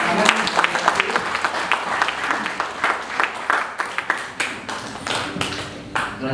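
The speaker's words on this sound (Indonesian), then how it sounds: "Mari kita beri tepuk tangan." Guests at a church holy matrimony ceremony applaud the newly married couple, a lively burst of many hands clapping in quick irregular patter that holds steady for several seconds before thinning out.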